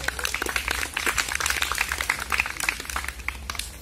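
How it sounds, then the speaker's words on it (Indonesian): Group of people clapping at a paintball game briefing, a steady patter of many hands that runs continuously and fairly close, with faint voices mixed in. "Tepuk tangan dulu dong"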